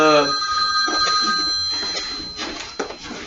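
A telephone bell rings briefly at the start in a horror film scene from the 2013 Texas Chainsaw Massacre remake, then fades into muffled ambience and a few faint sounds.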